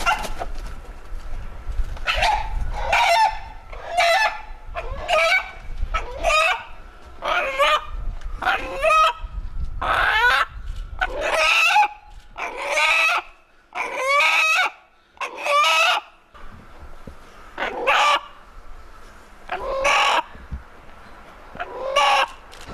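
Chickens cluck and squawk repeatedly nearby in a coop while a rooster crows, the calls coming in a steady, busy series with brief pauses between.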